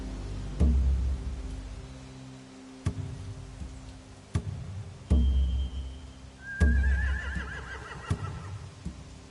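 In The Walking Dead: The Final Season video game, several sharp thuds punctuate the quiet, and a horse whinnies once with a high, wavering cry amid faint ambient tones.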